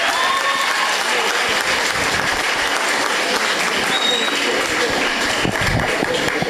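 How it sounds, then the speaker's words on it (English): Sustained applause from a school audience at a Year 11 prize giving ceremony, dense steady clapping filling the hall from start to finish at a loud, even level. "Can we please have a round of applause for that achievement?"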